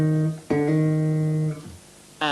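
A single bass guitar note played with a funk-style hammer-on using the second finger, a steady sustained tone that fades out, then a fresh attack near the end, played alone.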